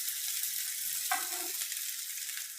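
Chopped cabbage sizzles in oil in a hot kadhai, a continuous bright frying hiss broken midway by a brief metallic clink of stirring.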